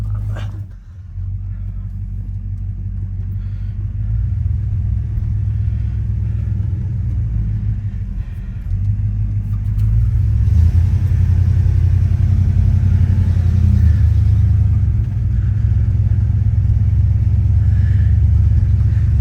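A 1958 Plymouth car engine rumbles steadily at low pitch while driving, growing slightly louder partway through, with someone talking over it.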